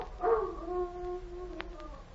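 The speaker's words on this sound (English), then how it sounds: "Sounds like a dog howling." A dog howls as a sound effect in an old radio western drama, a single drawn-out mournful wail rising and then sustained at moderate loudness, heard alone with no talk over it.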